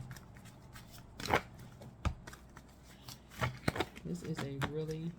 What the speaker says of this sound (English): big deck of cards. I'm trying to shuffle.